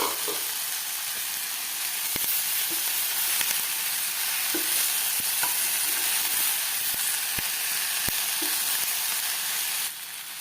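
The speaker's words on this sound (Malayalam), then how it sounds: "ഇതെല്ലാം കൂടെ നമുക്കൊന്ന് മിക്സ് ചെയ്തെടുക്കാം." Boiled potatoes are stirred in a hot pan for dhaba-style aloo bhuna, giving a steady sizzle and hiss with scattered sharp scrapes and taps of the spoon, close by and continuous until the level drops near the end.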